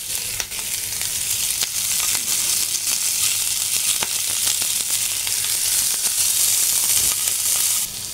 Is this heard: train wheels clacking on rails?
no